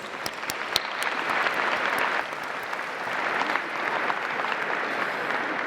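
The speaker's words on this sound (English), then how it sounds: "Let's give a big round of applause to all of our sponsors." Sustained applause from an audience at an awards gala honouring sponsors, steady dense clapping with a few sharper close claps near the start, holding at an even level throughout.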